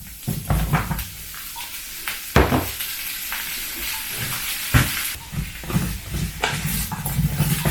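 Zucchini frying in a pan gives a steady crackling sizzle with scattered sharp pops and the scrape of stirring throughout.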